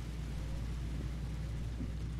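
Low, steady rumble of thunder in Euro Truck Simulator 2, a continuous deep roll lasting throughout with a faint rain-like hiss above it and no distinct crack.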